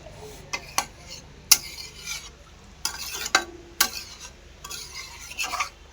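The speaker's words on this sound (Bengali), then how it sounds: "এটা পুরো ঝোলের সাথে মশলাটাকে একসাথে মিক্স করে দেবো।" Ground ginger and cumin masala mixed into a watery gravy in a wok with a spatula, giving scattered bursts of scraping and clinking against the metal over a low bubbling sizzle.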